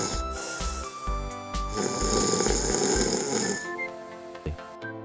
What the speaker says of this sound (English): he finally falls asleep while snoring softly